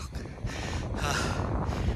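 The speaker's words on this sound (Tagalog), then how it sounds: "Ang lalim ng aking hininga." Heavy, deep panting after physical exertion, close to the microphone with steady wind-like rushing breaths and some wind noise.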